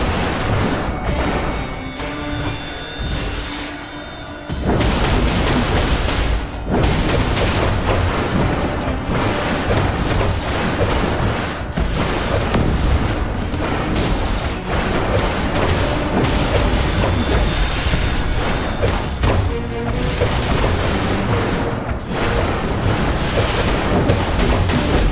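Cannon fire in the DC Universe Online game: a sustained barrage of loud, booming blasts and crashing impacts layered over dense game noise, with a brief quieter lull before the heavy firing surges in and continues.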